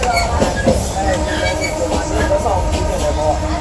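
A Myanmar train running from Golden Rock to Yangon, heard from inside a second-class carriage with a wooden floor: a steady, loud rumble with rhythmic clatter and faint wheel squeals throughout.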